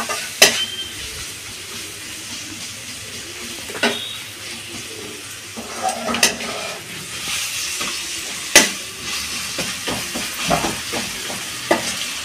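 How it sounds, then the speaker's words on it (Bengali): Onion lightly frying in a pan for a steamed egg dish, a steady close sizzle with scattered sharp clicks and scrapes of a spatula against the pan. "পেঁয়াজটা আমি হালকা করে ভেজে নেব।"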